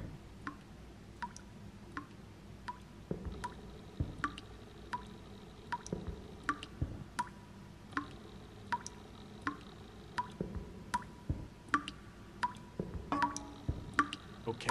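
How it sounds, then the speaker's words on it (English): Water dripping from a pipe in the video game Blindscape, sharp isolated drops falling at a fairly regular rhythm over a quiet, faint background, with occasional softer splashy ticks. "So let's try and walk towards this dripping."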